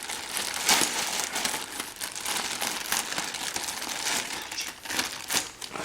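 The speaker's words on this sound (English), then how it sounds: "I like ripping through this material" Crinkly plastic packaging bag sealed with tape being ripped open by hand, a continuous close rustle and crumple with sharper tearing bursts.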